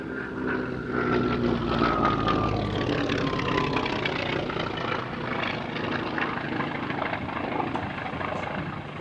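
A vintage propeller aeroplane flies at the Duxford Flying Legends airshow, its engine a loud, sustained drone that swells and slowly shifts pitch as it passes, with no talk.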